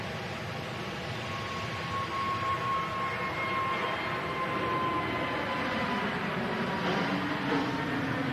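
An airliner painted in Better World livery rolls for departure at Manchester Airport, heard as a steady broad engine roar that holds loud and even throughout, with no voices over it.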